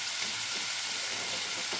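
Frozen wrap filling cooks in a pan, giving a continuous close sizzle and frying crackle for about two seconds, with no voices over it.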